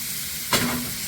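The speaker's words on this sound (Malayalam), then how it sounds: "നമ്മൾ നേരത്തെ മിക്സിയിൽ നിന്ന് അടിച്ചു വെച്ച ക്യാരറ്റും ബീട്രൂട്ടും" Carrot and beetroot, ground earlier in a mixer, hit a hot pan for a Kannur-style thoran, giving one sharp, close sizzle burst that settles into a softer hiss.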